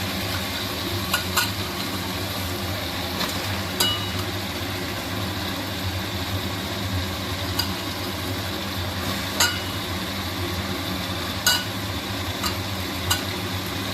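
Chicken fries with sautéed tomatoes in a pan, a continuous low sizzle and bubbling hum with occasional sharp clicks of a spoon against the pan at irregular intervals.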